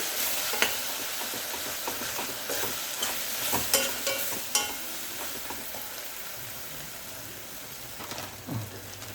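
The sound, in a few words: stirring chili powder and turmeric into vegetables for dum biryani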